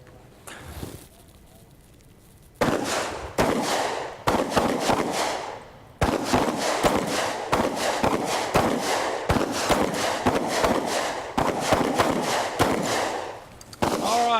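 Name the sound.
pistol shots, three rounds fired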